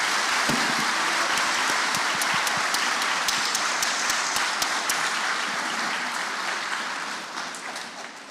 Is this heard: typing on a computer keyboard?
no